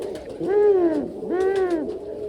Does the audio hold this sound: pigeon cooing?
yes